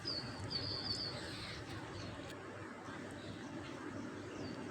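Birds calling in a village at morning or evening, with pigeon-like coos and brief chirps over a soft, steady outdoor background, fairly faint and distant.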